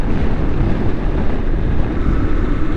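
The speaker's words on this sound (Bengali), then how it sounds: "এই পরিমাণ বাতাস।" Strong wind buffeting a motorbike rider's microphone during a ride near Cox's Bazar, a loud continuous low roar with steady rumble and no pauses.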